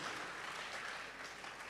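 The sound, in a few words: audience applause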